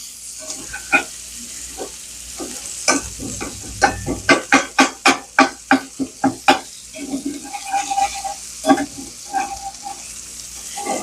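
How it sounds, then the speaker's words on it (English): Sausage frying in a pan, a steady sizzle broken by a run of rhythmic scraping stirs in the middle, close and loud, with a few clatters of utensils. "work on the sausage and get it fried up"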